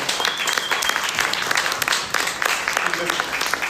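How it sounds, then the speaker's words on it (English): Applause for a panel of speakers at the end of a discussion on the future of work, a dense, steady round of clapping from an audience, fairly close and continuous throughout. "give a big round of applause for our panelists"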